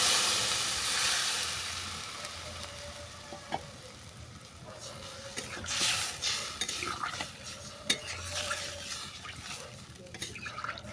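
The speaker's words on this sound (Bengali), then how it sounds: "এটাকে অল্প করে নেড়ে চেড়ে আমি জল দিয়ে দেবো।" Katla fish cooks in a pan with salt and turmeric under a faint, quiet sizzle, and a utensil stirs and clinks against the metal every so often.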